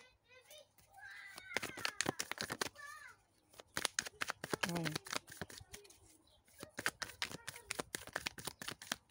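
Tarot cards shuffled and drawn during a French card reading, a dense run of quick papery flicks and snaps coming in bursts, with someone talking over parts of it.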